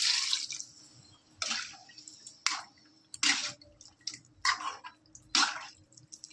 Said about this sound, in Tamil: இந்த நேரத்தில் நம்ம கொஞ்சம் தண்ணி சேர்த்துக்கலாம்.